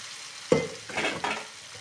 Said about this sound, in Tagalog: Gisa-gisa natin konti at saka balik.